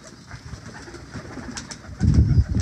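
Taddy pigeons of the Salaray type coo in soft, throaty low murmurs, growing louder and fuller near the end, close by with no talking.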